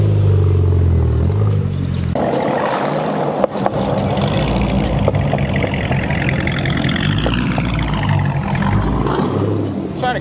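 A boosted Mitsubishi Evo X engine roars loud and close from the cabin, its heavy, continuous drone swelling as the car pulls hard through about ten seconds of acceleration.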